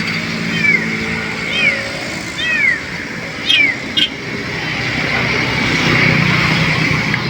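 A kitten meows several times in short, high, rising-falling cries, fairly close, over a steady vehicle engine drone, with a voice speaking briefly in between.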